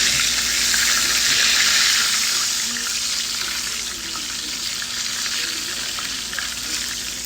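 Fish frying in hot oil gives a loud, continuous close sizzle with dense bubbling hiss, easing slightly in level partway through.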